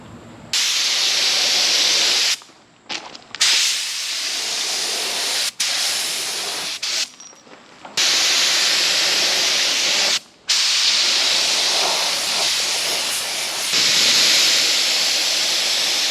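A spray gun applies solid-colour gelcoat to boat compartment lids, letting out loud, close bursts of hissing spray several seconds long, separated by short sharp pauses as the trigger is released, with no speech.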